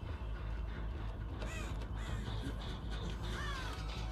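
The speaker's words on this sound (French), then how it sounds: "il y a un corbeau qui a été dérangé" A crow in the Dead by Daylight horror game caws a few times, harsh and distinct, over a low constant ambient game drone.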